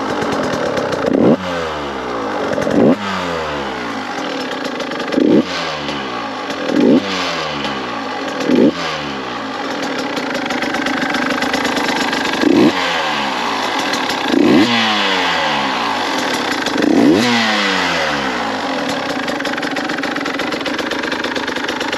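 A 2022 Husqvarna TE150i two-stroke motorcycle idles with a buzzy putter, then revs sharply in short repeated blips, about eight rising bursts that each fall back to idle, loud and close with no talking.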